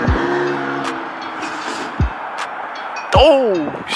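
Exhaust pops and crackles from a Chevy Sport with a newly installed Y-pipe, a few sharp bursts over a steady engine drone, with people talking nearby.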